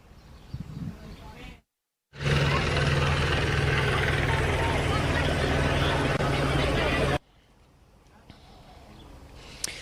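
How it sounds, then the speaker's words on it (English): A helicopter passing overhead above a street vigil, a loud steady rotor drone with a low pulsing throb lasting several seconds between quieter stretches, with a voice talking around it. "A helicopter overhead"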